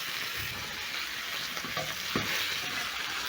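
A rib eye steak fries in a pan with butter, garlic cloves and rosemary, a steady close hiss of sizzling fat with a few faint spatters and a light knock, no voices.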